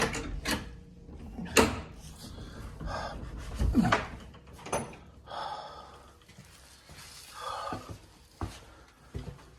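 A door being unlocked and opened at night, heard as scattered clicks, knocks and rattles of a latch and handle, with sharp transients spread across several seconds and heavy breathing close by.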